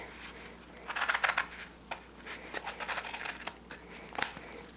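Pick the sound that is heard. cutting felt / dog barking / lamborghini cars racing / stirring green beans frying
cutting felt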